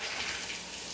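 Water runs steadily from a newly installed kitchen faucet, with the hot and cold supply valves just opened; a constant close hiss and splash fills the whole moment.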